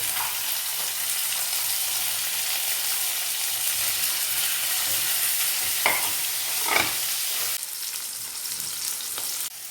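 Garlic and tomato frying in a pan, a steady close sizzle running throughout, broken by a couple of brief stirring scrapes near the end.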